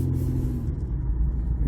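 A 2008 Mercury Mariner SUV with steering play backs out, its engine giving a steady close low rumble and road noise throughout, with no talking.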